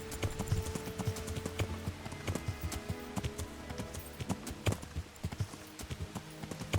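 A horse's hooves clip-clop in an irregular, fairly quick rhythm, close and moderately loud, with scattered heavier thuds and no talking.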